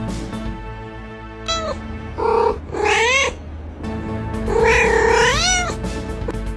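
A cat perched on a student's desk in an Indonesian exam hall lets out several drawn-out, wavering meows and caterwauls, close and loud, with short pauses between calls.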